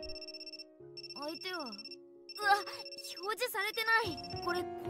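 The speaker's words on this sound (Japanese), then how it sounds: "右京、 携帯の電池が切れちゃって、公衆電話からなんだ。" A phone rings in the Amnesia game for a call from a public phone, giving repeated high electronic tone bursts with gaps between them, mixed under voices and music.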